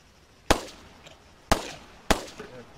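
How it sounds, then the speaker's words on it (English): Three loud, sharp gunshots from an Arma 3 firearm crack out at irregular intervals, each with a short echoing tail, fired up into the air in an open game world, with no talking over them. "Oh, he's shooting up in the air."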